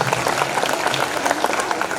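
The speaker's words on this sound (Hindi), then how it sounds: "तो जोरदार ताली" Audience applause at a Hindi stage show honoring performers, a steady dense wash of clapping from a crowd, fairly loud and continuous throughout.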